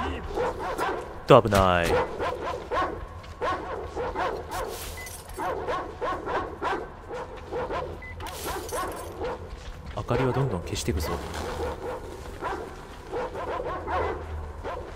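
Dogs in the game Metro Exodus bark, yip and whimper repeatedly at close range in uneven bursts, while someone talks over them now and then.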